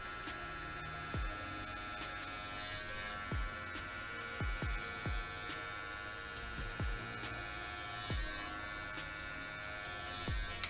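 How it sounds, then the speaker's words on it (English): Electric hair clippers hum steadily at close range during a self-cut mohawk, with faint buzzing under repeated short clicks and taps from handling; no one speaks. "You gotta have clean clippers"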